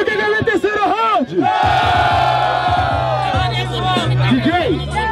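At an outdoor rap battle event, a large crowd roars, cheers and shouts in a loud, sustained wave, while an amplified voice and music sound over the noise.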